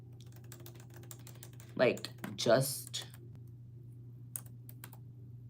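A computer keyboard clacks in two brief bursts of quick keystrokes, faint and close, while someone talks quietly over a steady low hum.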